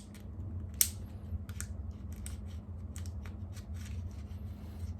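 Cutters snip straight across a piece of plastic on an AirHogs flying motorcycle toy, giving a series of sharp, close clicks and crunches over a steady low hum, with no talk.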